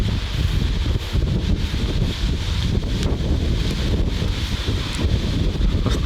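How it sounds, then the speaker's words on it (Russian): Strong storm wind blows across a forest camp with a hammock setup, loud and continuous, with gusty microphone buffeting and rustling foliage. "Ветер задувает."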